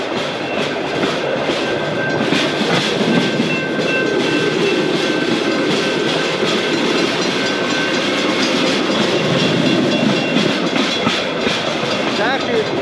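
A rail explorer pedal car rolls steadily along train tracks in Las Vegas, giving a continuous loud rumble with clattering wheel noise throughout, close and unbroken.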